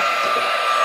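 Electric mixer whirring steadily as it blends cake batter for a strawberry layer cake, a continuous close motor hum with no talk.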